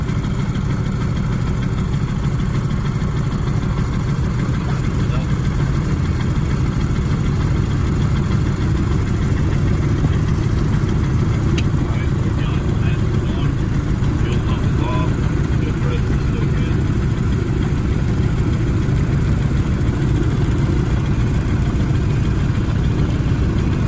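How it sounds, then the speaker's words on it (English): Lockheed Model 12 twin-engine aircraft with the left engine already running while the right engine starts, a loud steady broadband engine roar that continues throughout, with a voice faintly under it. "at this point, we already started the left engine to start the right side"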